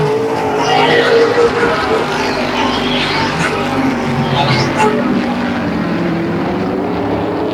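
OSCAAR modified race cars roar around Peterborough Speedway, engines droning loud and steady as they power out of a turn, with broad, continuous engine noise throughout.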